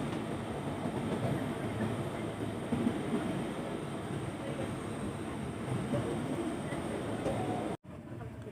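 A commuter train from Bogor rolls along the rails with a continuous rumbling hum heard from inside a carriage, steady and moderately loud, ending in a sudden brief cut.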